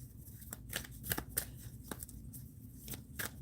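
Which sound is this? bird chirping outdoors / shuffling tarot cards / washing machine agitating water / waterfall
shuffling tarot cards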